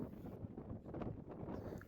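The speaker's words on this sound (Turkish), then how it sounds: "Bakü rüzgarlar şehri olarak anılıyor ve gerçekten isminin hakkını veriyor." Strong wind in Baku buffets the microphone with a steady, rough low roar and gusty rustle, fairly faint overall and with no voices.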